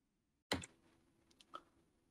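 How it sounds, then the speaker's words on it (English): A single sharp computer mouse click sounds close in a quiet room, followed by a few faint softer ticks and clicks. "And click on Run."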